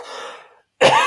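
A person clears the throat with a soft rasp that fades, then after a short silence lets out one sharp, loud cough close by.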